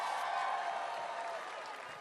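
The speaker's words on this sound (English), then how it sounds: "Let's give them a round of applause, everyone." Sustained applause from a large audience at a Global Citizen Earth Day event, a dense, even wash of many hands clapping that fades slightly toward the end.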